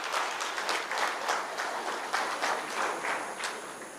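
Convention audience in Bengaluru applauding steadily, a dense wash of many hands clapping at a fairly even level throughout, sounding close and filling the room without any speech over it.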